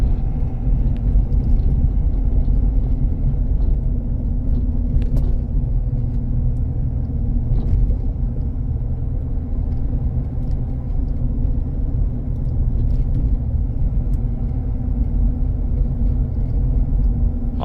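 A Ford F-250 Super Duty Platinum with a lift kit rolls down a really bumpy road, heard from inside as a steady loud low rumble with occasional faint knocks and rattles, no talking.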